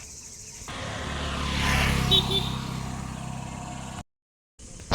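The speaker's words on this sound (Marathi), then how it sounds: "लय जवळून चालले बाबा गाड्या" Vehicles, including a bus, pass very close on a village road: engine rumble swells to a peak and trails off, then a brief cut to silence before traffic noise resumes.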